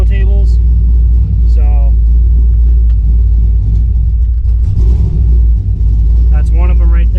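A Camaro V8 with long-tube headers and true dual exhaust idles with a deep, loud, steady rumble and slight lopey unevenness, close by, while someone talks over it.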